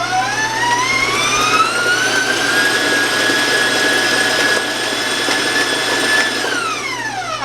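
An electric mixer beats sugar-free chocolate cake batter at high speed with a loud, continuous whirring whine. The pitch rises early, holds steady, then drops near the end, with no voices.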